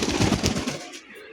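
Pigeons coo in a short, soft burst of throaty, pulsing calls up close. The calls fade out quickly.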